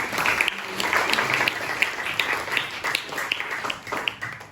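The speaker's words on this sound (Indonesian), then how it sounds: "Tepuk tangan buat kelas 7A." A class of grade 7A students claps together in a classroom, a dense patter of many hands that holds steady for several seconds, fairly close, with a few voices mixed in.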